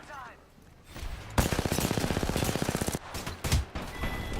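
Gunfire in the video game Apex Legends: after a quiet start, a rapid, evenly spaced burst of automatic shots rattles for about a second and a half, followed by a couple of louder single shots and further scattered firing, all played through game audio.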